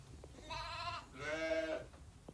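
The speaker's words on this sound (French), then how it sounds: "Non, c'était des brebis." Two soft, distant sheep bleats follow one after the other, each wavering call lasting about half a second, set against a low outdoor rumble and faint background noise.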